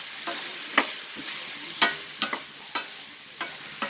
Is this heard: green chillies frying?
yes